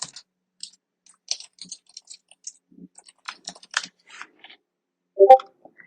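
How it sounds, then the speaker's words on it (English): Someone types a prompt on a computer keyboard, sparse quiet key clicks in short irregular bursts, close by in a silent room, ending with a louder click. "type your prompt"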